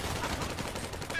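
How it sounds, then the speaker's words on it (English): Rapid gunfire in the online game GTA Online, a dense burst of shots packed into about a second, loud and continuous over a busy game soundscape. "Jesus Christ, like 15 shots to the ass."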